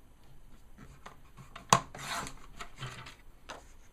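A single sharp snap of a paper trimmer slicing cardstock for a simple Christmas card, followed by a brief papery slide and light handling rustles, close and quiet.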